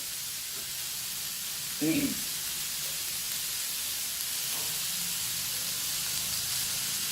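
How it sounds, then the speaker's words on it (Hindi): Mixed vegetables fry in a pan with very little oil, a steady soft sizzling hiss throughout with a brief clatter of stirring near the start, a voice talking over it. "ये सब्जी हमारी फ्राई हो चुकी है, भुन चुकी है"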